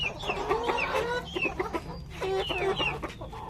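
A native chicken hen clucking repeatedly in quick, close bursts with short rising calls, loud and clear over faint farmyard background, without talk.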